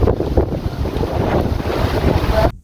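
Strong sea wind buffets the microphone at Foxy's beach bar, a loud continuous rushing roar with gusty swells before it cuts off abruptly.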